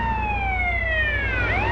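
An ambulance siren in GTA San Andreas wails steadily and loudly throughout, its falling tone dipping and rising again near the end over a low engine rumble, with no talk.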